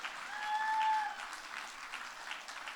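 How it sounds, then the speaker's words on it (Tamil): An audience claps for a singer being invited onstage at a Pongal celebration event, steady applause swelling briefly and then tapering off, moderately distant. "ஒரு பலத்த கைத்தலோட உங்களை இன்வைட் பண்ணிடலாம்."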